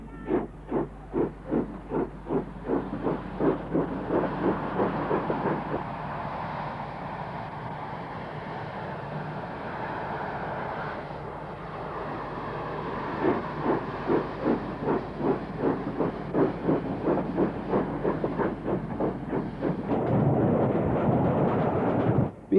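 A Royal Scot class steam locomotive, named London Rifle Brigade, passes with rapid rhythmic exhaust chuffs and hissing steam, the beats blurring into a roar mid-pass before sharp regular chuffing returns, loud and close.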